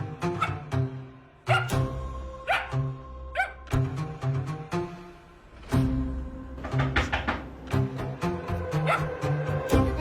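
A dog barks at night indoors, with short barks and yips scattered among a busy mix of musical tones and thumps, fairly close and moderately loud.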